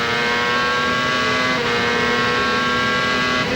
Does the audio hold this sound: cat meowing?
no